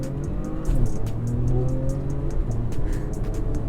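A Porsche Macan S SUV launches at full throttle, its engine roaring loud and close with rising revs and a rough rumbling under it, with brief sharp clicks or ticks above.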